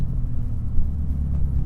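A manual-transmission car's engine hums low and steady as gas is gently applied, a muffled rumble heard from inside the cabin with no talk.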